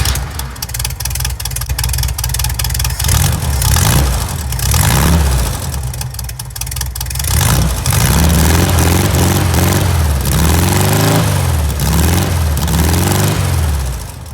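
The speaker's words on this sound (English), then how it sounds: "So now we're gonna turn on our engine and see how he reacts." A Volkswagen engine fitted with a new electronic ignition in place of points runs loudly close by, idling roughly before climbing into several rising revs and falling back, with no talking.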